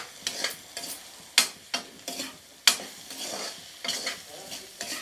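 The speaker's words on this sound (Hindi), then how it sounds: "और हल्दी को पहले एक बार भूंज लेते हैं ऐसे।" Turmeric roasting in a pan for bathua saag, with a spatula stirring through a soft sizzle in repeated scraping strokes and a couple of sharp clinks against the metal, close and without talk.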